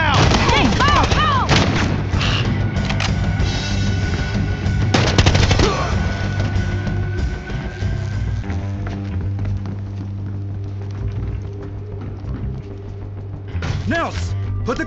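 Gunfire in the video game Battlefield Hardline, dense and loud automatic and single shots with clanking mechanisms, continuous across the whole stretch, with shouted voices at times.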